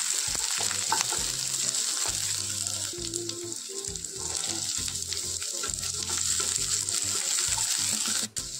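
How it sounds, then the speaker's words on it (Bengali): Chopped potatoes and onions sizzle steadily in a hot pan while a spatula scrapes and stirs them; a low hum runs underneath, and no voice is heard. "অল্প নাড়াচাড়া করার পরে আলুগুলো যেগুলো কেটে রেখেছিলাম তো সেগুলো দিয়ে দিতে হবে"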